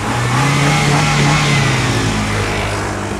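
A 2011 Chevrolet Spark's small engine accelerates, a steady close droning hum that holds its pitch and loudness for a few seconds, with no talk over it.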